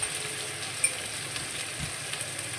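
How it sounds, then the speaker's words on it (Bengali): Pieces of pointed gourd (potol) frying in a pan with a little salt, a soft, steady hiss of frying with a faint tap of a utensil, no one talking. "দিয়ে এটাকে একটু লাল লাল করে ভেজে নেব।"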